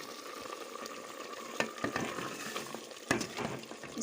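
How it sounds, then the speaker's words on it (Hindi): Goat meat cooking in a pot makes a soft, faint sizzle with a few sharper stirring clatters against the metal, no voices. "गोश्त हमारा बन रहा है।"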